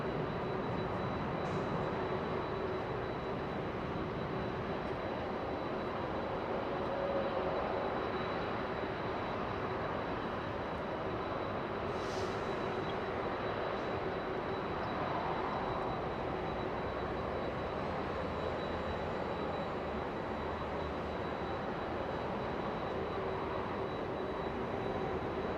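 Delta airliner arriving from Atlanta at Los Angeles International Airport, a steady broadband engine roar that holds at a constant moderate level throughout, fairly distant with no talking.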